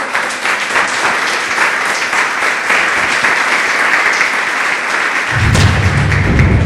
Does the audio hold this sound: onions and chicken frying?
no